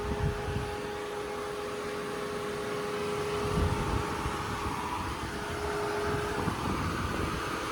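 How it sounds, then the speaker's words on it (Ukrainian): Heat pump and air conditioner of a Nissan Ariya electric crossover running steadily, a continuous fan-like whoosh with a low hum and a faint tonal whine, close and even throughout. "Навіть чутно зараз як він працює, це також кондиціонер працює."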